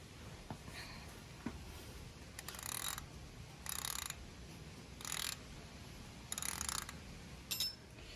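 A wrench ratcheting loose the engine oil drain plug on a Harley motorcycle, five or six short bursts of clicking strokes, close and fairly quiet, with no talk.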